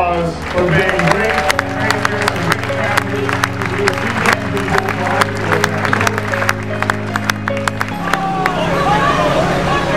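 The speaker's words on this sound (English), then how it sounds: "Give yourselves a round of applause for being great." A crowd applauding steadily at the US Naval Academy's Induction Day over a loud, sustained musical tone, with indistinct voices mixed into the noise.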